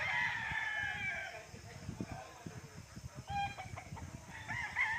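Chickens at a chicken farm in Tanay, Rizal: a rooster crows loudly and repeatedly among clucking hens, with a busy, fairly near flock throughout and faint voices in the background.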